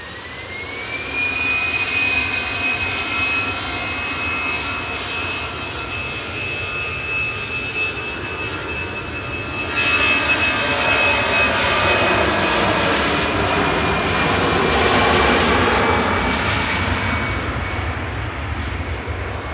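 Lufthansa jet airliner at Manchester Airport, its engines roaring steadily and loudly throughout with a rising whine, swelling further in the second half as it powers away.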